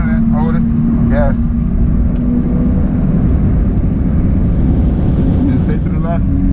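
A Corvette engine drones steadily on the Nürburgring track, a loud continuous in-car engine note with road and wind rumble, while a voice talks over it almost throughout.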